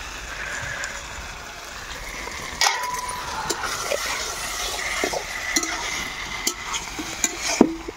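Meat curry cooking in a home kitchen pan, a steady sizzle with scraping stir strokes and occasional clinks of the spoon, close and continuous throughout.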